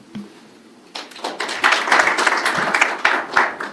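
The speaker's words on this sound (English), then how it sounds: "Can we give another round of applause to our sponsor and CEO, KASS Media Group?" A crowd applauds for the sponsor KASS Media Group at the Barngetuny Mountain Run launch, the clapping swelling in after a quiet start and holding dense and loud to the end.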